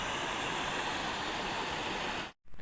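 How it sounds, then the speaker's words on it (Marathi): Rushing river water pours in a loud, steady torrent, a dense continuous roar filling the whole stretch before cutting off abruptly near the end. "छान वाटते बघा किती धोधो पाणी असं व्हायल्यासारखं वाटते"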